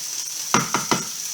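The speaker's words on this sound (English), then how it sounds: "I'm just going to use that to give it a quick stir." A spoon stirs a pasta bake in a pot, making three quick scraping strokes over a steady background hiss.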